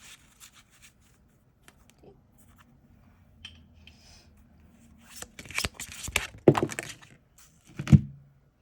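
Tarot cards riffle-shuffled close up in a couple of quick crackling bursts, with a few soft taps and handling sounds before them in an otherwise quiet room.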